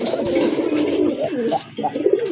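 Pigeons coo loudly and close at a pigeon sale, overlapping throaty rolling calls filling the whole moment with no talk.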